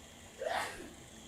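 One quick, close human sneeze bursts out sharply and fades within a second against quiet room noise.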